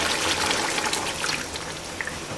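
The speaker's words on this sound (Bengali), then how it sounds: "এখন আমি একবারে পানি দিয়ে" Water poured into a pot of simmering chicken curry, a steady close gushing and trickling pour lasting the whole moment with no talk over it.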